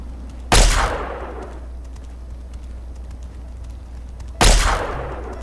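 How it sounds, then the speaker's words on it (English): Two loud sharp energy blasts from a laser weapon in Fallout 3, spaced about four seconds apart, each with a bright burst and a quickly fading tail over quiet game ambience. "Shoot you in the head with my lasers. I'm a firing my laser."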